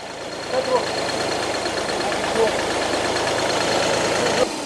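A tractor engine idles close by at a site with a mounted excavator, a steady low chugging rumble that runs unbroken until it cuts off at the end.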